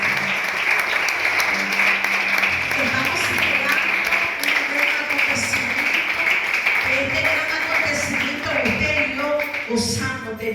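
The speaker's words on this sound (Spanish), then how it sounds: "Dele palmas al Padre." A church congregation applauds steadily for the pastor during a Spanish-language sermon, a dense wash of clapping lasting throughout, with some voices mixed in underneath.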